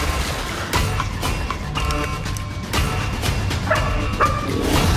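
Dogs bark and yip repeatedly amid a busy, noisy scene with other overlapping sounds.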